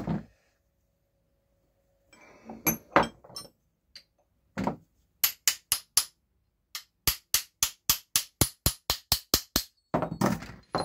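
A hammer taps a part through a keyway cutting setup for pulleys and gears in a workshop, starting with a few scattered knocks and then settling into a brisk, regular series of sharp metallic taps.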